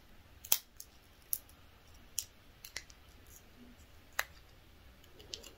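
Blue plastic backing being peeled off a Slendertone ab belt gel pad, heard as a scattered series of sharp crinkling clicks and snaps, close and fairly quiet, spaced irregularly over a faint background.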